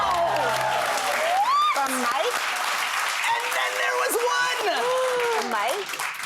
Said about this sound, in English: Give her a giant round of applause, please.